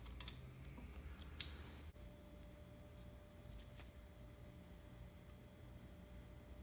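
Small metallic clicks and a sharp snap as the bobbin case lever on a Singer Featherweight 221 sewing machine is pulled and the case is taken out, quiet and close, followed by near silence.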